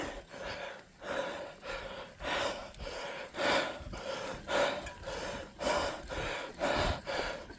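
Heavy, rhythmic breathing up close, with loud gasping inhales and exhales repeating steadily about once a second, no talking.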